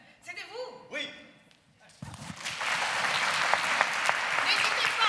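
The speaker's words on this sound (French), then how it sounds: "vous pouvez applaudir bien fort" An audience at a regional inclusion conference in Rhône-Alpes breaks into loud, sustained applause after a brief stretch of talking. The clapping swells and holds steady to the end.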